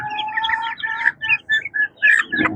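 A young chicken chick peeps in a rapid series of thin, high chirps, close and clear, with a few short gaps and a brief rustle at the end.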